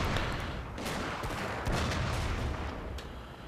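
Rifle volleys and artillery fire in the Total War Shogun 2: Fall of the Samurai battle game, a dense continuous crackle of overlapping gunshots with heavier booms, loud and unbroken with no talk.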